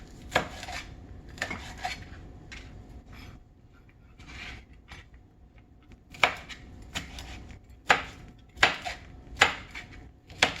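A knife slices through beef on a cutting board while preparing a Thai beef meal, producing a series of sharp, close knocks and scraping strokes in irregular bursts, louder and more rhythmic toward the end.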